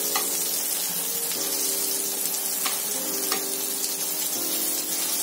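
Stuffed green chillies filled with fresh coconut sauté in a hot pan, giving a steady, close sizzle throughout with a few faint scrapes as they are turned.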